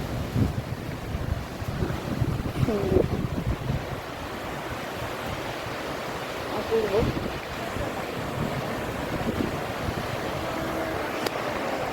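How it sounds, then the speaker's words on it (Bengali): Sea waves break and wash on Kovalam beach in a steady, continuous surf roar with wind noise on the microphone, and brief voices speak over it. "সমুদ্রের ঢেউ"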